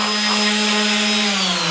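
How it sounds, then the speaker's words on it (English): A power drill bores holes into a metal brake fluid can, giving a steady, close, loud motor whine that holds one pitch throughout. "got the holes drilled"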